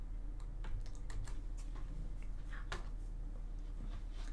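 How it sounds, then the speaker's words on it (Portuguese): A command being typed on a computer keyboard for OpenFOAM simulation work, a steady run of close, crisp key clicks over a constant low hum, with no talking. "Se eu pegar aqui e escrever paraFlow"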